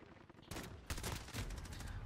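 Rapid pistol fire in Call of Duty Modern Warfare: after a brief quieter moment, a loud, dense string of shots crackles on without pause for the rest of the stretch.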